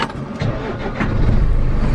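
A large horse lorry's engine starting up, a steady loud rumble that swells and settles into a heavier running drone by the second half, with no talking.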